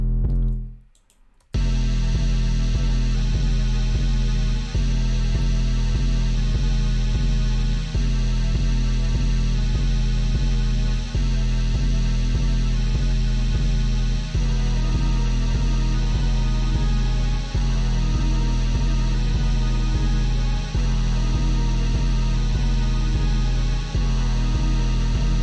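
Rage and black metal styles meet in a dense, distorted mix built on a heavily distorted bass with boosted lows, with a steady loud wall of sound and regular pulsing hits after a short quiet start.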